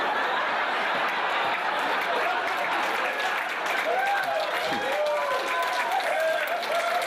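Comedy show audience applauding in a steady, dense wash of clapping, with scattered chuckles and crowd murmur mixed in throughout.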